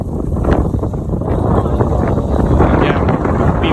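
Strong wind buffets the microphone outdoors, a loud continuous low roar with gusty swells throughout, and faint speech is buried beneath it.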